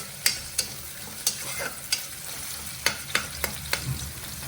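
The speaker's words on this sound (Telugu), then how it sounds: "అవి మంచిగా కొంచెం లైట్ బ్రౌన్ వచ్చేంత వరకు వేయించుకున్నాము" Onions and curry leaves fry in a pan for cabbage red lentil curry, a steady close sizzle broken by sharp scraping clicks as the pan is stirred every half second or so.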